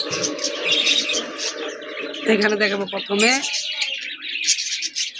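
Pet pigeons and other caged birds in a keeper's collection coo and chirp steadily throughout, with a strong harmonic call midway, while someone talks over them.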